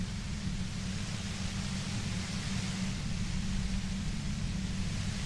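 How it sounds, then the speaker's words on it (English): Dense, steady white noise hiss, a sound effect from the Disco Elysium video game on PS5, fills the whole stretch evenly with a heavier low rumble beneath and no voices. "You hear through the white noise."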